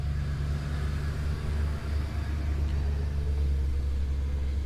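A Lincoln Town Car pulls away in a steady low engine rumble that holds level and continuous, with no talk over it.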